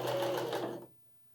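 A sewing machine runs a short backstitch burst while sewing a strappy dress, a dense whirring buzz held for under a second before stopping abruptly into near silence.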